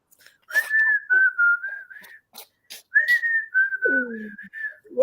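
A person whistles a wavering, sliding melody in two long phrases separated by short pauses, close and fairly loud, with a lower whistled glide near the end and no talking.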